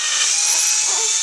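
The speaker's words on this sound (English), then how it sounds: "Now he's drilling holes into the frame so that the wood doesn't crack when he puts the screws in." A power drill bores holes into a wooden frame, producing a steady, close, high-pitched whirring with no pauses and no talking.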